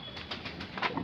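Large Shahjahanpuri pigeons, known as gahre, coo in soft repeated pulses, faint and close, with no voices.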